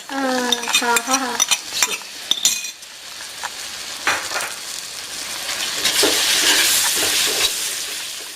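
Traditional lemon pickle being stirred and mixed in a pan, with a voice speaking briefly at first, then spoon scrapes, light clinks and a soft sizzling hiss building toward the end.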